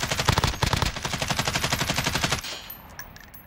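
Rapid automatic gunfire from an online shooter video game crackles loud and close in tight repeated bursts, then cuts off abruptly, leaving only faint background noise.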